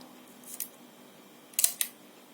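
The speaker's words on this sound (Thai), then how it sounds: "จะเป็น ชุดสปีดชัตเตอร์ตัวเร็วนะครับ" Shutter mechanism of a Minoltacord twin lens camera being worked on its fast speeds, giving a faint click near the start and a sharper double click later, close up in a quiet room.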